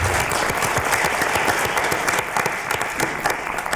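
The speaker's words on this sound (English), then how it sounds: "Now that we clapped at the beginning and end of each judge, we have to do it for everybody" Sustained applause from a debate audience for a judge, dense steady clapping filling the room throughout with no speech over it.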